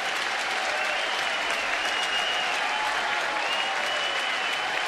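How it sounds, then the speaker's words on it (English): A ballpark crowd applauds a strikeout, with a broad, steady wash of clapping and faint cheering spread across the stands throughout. "Fans applauding for a strikeout for Gonzalez."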